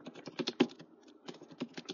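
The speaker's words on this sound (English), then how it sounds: "I'm just typing it in right now." Rapid keystrokes on a computer keyboard, clicking in quick uneven bursts with a brief pause midway, close and fairly quiet, no voices.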